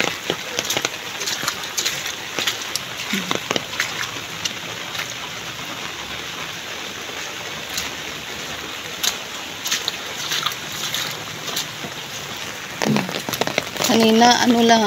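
Heavy typhoon rain from Typhoon Verbena, now easing, a steady broadband hiss of rainfall with scattered drips and patters, heard close and moderately loud throughout, with a voice speaking intermittently over it.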